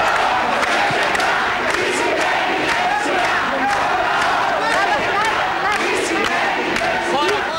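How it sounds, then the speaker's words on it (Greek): Hundreds of PASOK members and supporters massed at a polling station, a loud dense crowd roaring, clapping and chanting continuously, with voices blending into a sustained close din. "Εκατοντάδες μέλη και φίλοι του ΠΑΣΟΚ τον χειροκροτούν και φωνάζουν συνθήματα"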